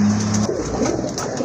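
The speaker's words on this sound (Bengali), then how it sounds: "এটা হচ্ছে আপনার খুব পুরান জাতের দেশি কবুতর" An old native breed of domestic pigeon gives a short, low, resonant coo at the start, followed by quieter rustling and faint background noise.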